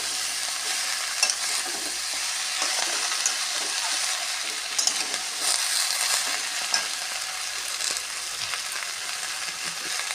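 Malabar spinach and potato pieces stirred in hot oil produce a continuous, fairly soft sizzle with small crackles and occasional scraping from the stirring, steady throughout without any talking.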